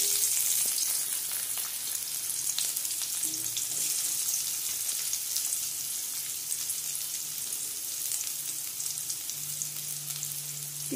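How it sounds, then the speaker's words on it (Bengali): Chopped onions fry in hot oil after the tempering spices, a continuous even sizzle with soft crackling that holds steady and close, with no voices. "পেঁয়াজটা একটু ভেজে নেব।"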